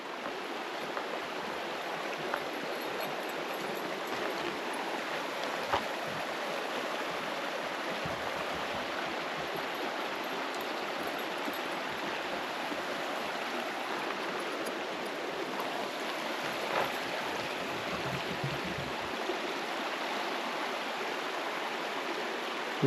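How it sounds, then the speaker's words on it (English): Creek water flows steadily through a dark, lush forest near Sullivan Lake, a constant broadband rush with no break, close and fairly loud, with no talking. "This must be Noisy Creek."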